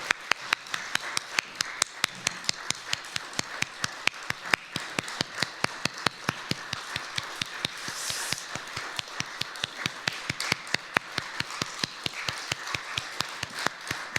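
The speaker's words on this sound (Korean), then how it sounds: "우리 자리 앉을 때까지 박수하는 거 아시죠?" A church congregation claps in a steady, even rhythm at a Korean mission-committee worship service. The beat is sharp and regular and keeps going for about fourteen seconds, fairly quiet overall with nobody talking over it.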